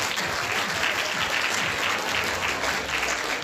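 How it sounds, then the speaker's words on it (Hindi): A large audience at a village talent competition gives sustained, dense applause, a continuous loud wash of many hands clapping together without a break. "जोरदार तालियां आप सभी लोगों की"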